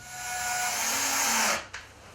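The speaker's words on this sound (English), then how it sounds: "Let's put those screws in now." A power drill drives a screw into soft pallet wood, a rising whine that holds for about a second and a half before stopping abruptly, followed by a brief click.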